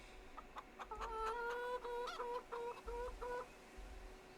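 Chickens cluck in a farm scene from the Farming Simulator 25 video game, a quiet run of short, rhythmic clucks repeating over steady background ambience.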